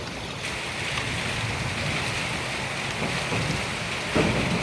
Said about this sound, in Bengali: প্রচুর পরিমাণ ঝড় এবং বৃষ্টি হচ্ছে